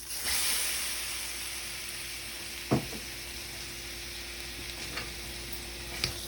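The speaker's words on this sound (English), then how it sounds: "using our butter, I'm just gonna put a little bit and add our shrimp" Shrimp sautéing in homemade garlic butter for shrimp fried rice, a steady close sizzle and hiss with a few sharp utensil clicks and scrapes in the pan.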